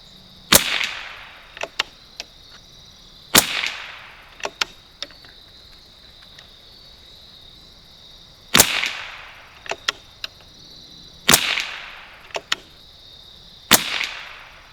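A 1972 Anschutz Model 54 match rifle with a scope fired during ammunition testing at dusk, giving five sharp, loud cracks spaced a few seconds apart, with softer clicks of the bolt between shots.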